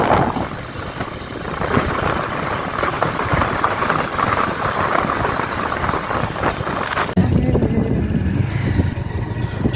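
Strong sea wind buffets a moving bike, a loud, close, continuous roar of gusting noise that drops in level abruptly near the end, with no voices.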